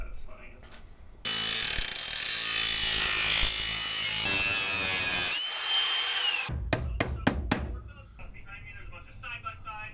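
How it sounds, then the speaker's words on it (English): Power tool grinding a metal edge with a flap disc in a home workshop, a loud continuous whine that winds down, then a few sharp knocks and rattles close by. "And then clean this edge up with a flapper disc."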